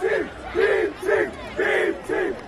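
A basketball fan crowd at a Sacramento Kings game chants "Beam team" in unison, five rhythmic shouted bursts with short gaps between them, loud and close.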